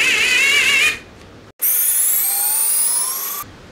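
A 6th-generation Bosch IXO 3.6 volt cordless screwdriver backs a screw out, its motor whining close up in two bursts, a short one and then a longer, steady run, with no talk.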